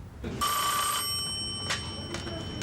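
A telephone rings in a congressman's office, a bright electronic ring burst followed by fainter repeated chirps over low room noise, with a voice faintly present.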